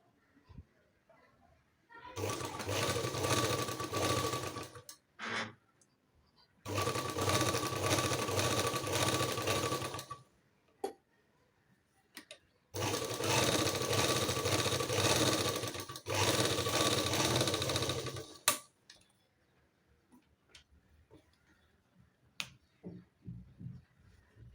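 Freshly cleaned sewing machine stitching in three steady bursts of a few seconds each, a fast, even mechanical whir separated by quiet pauses and small clicks, close and fairly soft.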